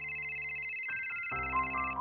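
A mobile phone rings with a bright electronic melodic ringtone, loud and steady, in a home scene from a Marathi TV serial.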